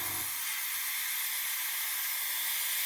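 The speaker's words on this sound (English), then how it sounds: "I'm just going to do a little test down here and see how it sprays." Thinned paint sprayed onto rough plastic in a short test burst: a steady, close airy hiss that starts after a brief low thump and runs unbroken, with no talking.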